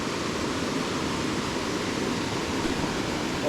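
Small stream pouring into a larger river in West Virginia farm country, a steady broadband rush of flowing water, close and even throughout.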